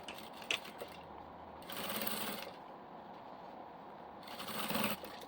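A sewing machine stitching a portable diaper bag with changing pad: quiet, intermittent bursts of rapid mechanical stitching, with two longer runs separated by pauses, close by and fairly soft.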